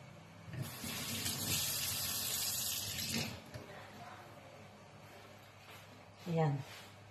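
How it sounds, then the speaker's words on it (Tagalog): Water running from a tap into a pan for oven-cooked kafta with tomato paste, a broad rushing pour lasting about three seconds, then quieter kitchen sounds with a short spoken remark near the end. "Lagyan natin ng tubig."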